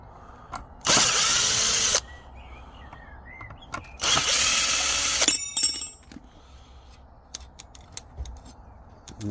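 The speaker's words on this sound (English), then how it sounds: "And that's the screws out of there." A power drill backs screws out of an old wooden bench during a restoration, with two loud bursts of about a second each, then rattling and small knocks of loosened parts nearby.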